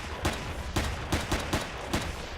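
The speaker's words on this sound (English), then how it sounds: "And so you just keep shooting him." Gunfire aimed at an enemy in the Empyrion survival game: about six sharp shots in an uneven rhythm over two seconds, moderately loud, with background noise between them.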